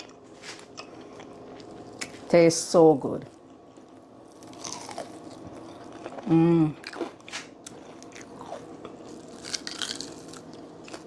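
Crunchy bites into Jamaican-style fried chicken wings: two sharp crisp crunches close together, then another a few seconds later, with a person talking quietly between them.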